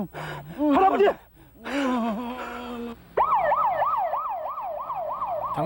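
An ambulance siren sounds loud and close in a continuous wailing sweep. It rises and falls steadily after some shouting voices at the start.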